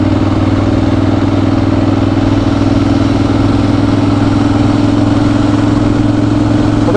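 A motorcycle cruising slowly along a summer coastal road at Notojima, its engine a steady, loud, even drone with a constant low hum and wind rush and no pauses.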